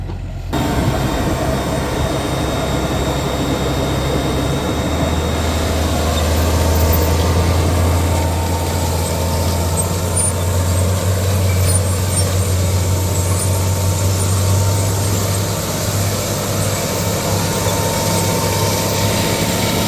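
A tractor pulling a SiCh seed drill rolls across a field, its diesel engine a loud, steady, close drone with a deep low hum and constant rumble throughout, no pauses.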